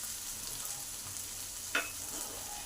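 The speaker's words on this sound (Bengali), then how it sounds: "এটাকে ভালো করে ভেজে নেব এই মশলাগুলোর সাথে" Semolina frying with spices in a pan for spicy sooji, a soft steady sizzle running throughout with one brief stir scrape near the end.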